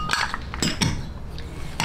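A utensil scrapes and clinks against a bowl while cream cheese and onion filling is mixed, giving a few close, brisk knocks and scrapes in quick succession.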